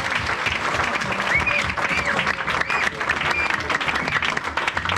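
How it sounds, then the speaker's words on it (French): A church congregation at a worship service applauding Jesus, a loud sustained wash of clapping from a crowd, with a faint voice or singing tone rising through it. "Acclame très fort Jésus."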